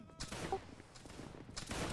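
Musket volleys from a line of Napoleonic-era Prussian and Saxon infantry in a multiplayer battle video game: sharp, crackling gunfire bursts near the start and again near the end, over a continuous background of battle noise.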